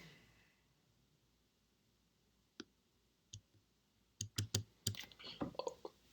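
Keys on a computer keyboard click faintly and close by, a few isolated taps at first, then a quick burst of typing toward the end over a quiet background.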